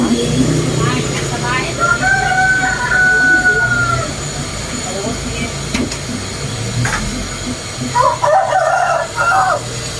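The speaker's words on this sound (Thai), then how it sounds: "ก็ฟังเสียงไก่ขันไปด้วยนะคะ" A fighting-breed rooster crows in the background with a drawn-out call, then crows again near the end, over steady low ambient noise and faint voices.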